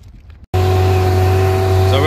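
Outboard motor of an inflatable fishing boat, not running right and failing to rev properly, starting abruptly after a short quiet stretch and droning loud and steady up close, with talk over the engine.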